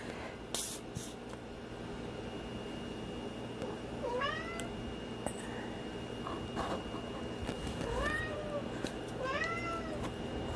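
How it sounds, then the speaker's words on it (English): A cat meows several times, drawn-out rising-falling cries spaced a few seconds apart, over steady background hum and small handling noises. "That's Meanie, if you can hear my kitty."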